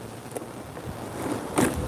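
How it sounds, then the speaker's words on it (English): Sea waves washing in along the promenade at Maryport on an incoming tide, a steady broadband wash with a louder surge near the end, wind buffeting the microphone throughout. "So let's just go and enjoy the nice sounds of the waves."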